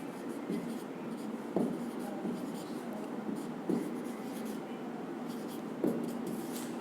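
Marker or chalk strokes on a board during a chemistry lesson on inductive effect, a scratchy rubbing texture with three sharper taps spaced a couple of seconds apart, close and alone.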